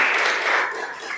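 Congregation applause fills a church service, a dense, steady wash of clapping that stays loud throughout and eases slightly toward the end.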